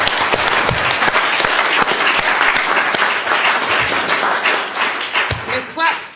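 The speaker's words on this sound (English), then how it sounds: "You clapped to the wonderful ending of the answer" Loud, sustained applause from a large crowd, dense clapping filling the room and tapering slightly toward the end.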